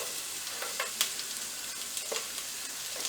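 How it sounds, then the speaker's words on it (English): Whole garam masala frying in preheated oil, a bright crackling sizzle with quick popping spits and light stirring clicks, close and steady, without voices. "See, whole garam masala will fry."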